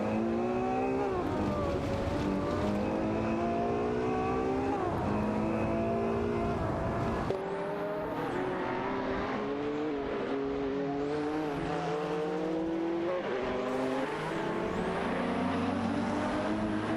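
Engines of a Ferrari F40 LM and a McLaren F1 in a racing game, revving continuously with rising and falling pitch through gear changes, one car passing close with a whine, alone and loud throughout.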